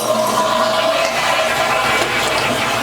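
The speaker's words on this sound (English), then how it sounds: "and then flushing the toilet" Toilet flushing in a bathroom, a loud continuous rush of water close to the microphone, alone without talk.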